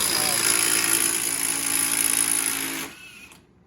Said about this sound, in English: And that's with the rigid impact gun.